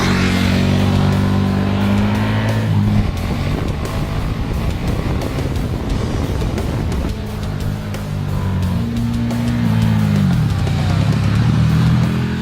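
KTM Super Duke 1290 R motorcycle ridden on a street, its engine loud and close throughout, revving and shifting with rising and falling pitch and steady wind rush.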